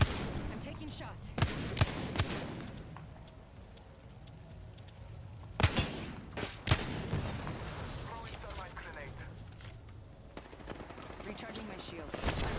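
Apex Legends gunshots ring out as scattered sharp cracks and short bursts, some close and loud, others fainter, over game ambience with a voice talking at times.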